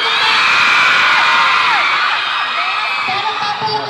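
A large crowd at a live fan event screams, whoops and cheers loudly and continuously, high-pitched shrieks layered over the roar.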